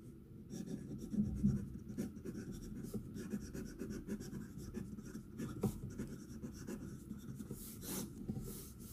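A Franklin Christoph fountain pen fitted with a music nib scratches steadily across paper in close, quiet strokes, a continuous soft rubbing texture with small rhythmic variations and no voices.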